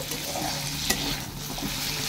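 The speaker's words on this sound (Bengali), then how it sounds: "তো ভাত ভাজা করে, যেটাকে আমরা এখন বলি ফ্রাইড রাইস" Leftover rice is stir-fried into fried rice, a soft crackling sizzle under brisk stirring and scraping in the pan, close and fairly quiet, with no talking.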